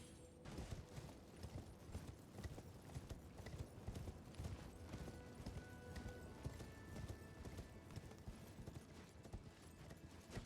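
A horse gallops in the Elden Ring video game, a steady rapid clip-clop of hooves that runs throughout, fairly faint, with no talking over it.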